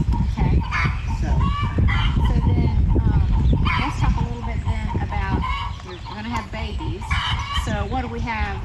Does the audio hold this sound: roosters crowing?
yes